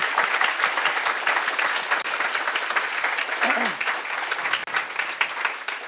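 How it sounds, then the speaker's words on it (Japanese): Seminar audience gives loud, sustained applause, dense clapping from a full room that holds steady throughout, with a brief voice or sound rising once partway through. "よかったら盛大な拍手お願いします。"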